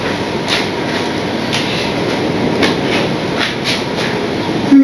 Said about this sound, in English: Depending on what ideas I've got for running locomotives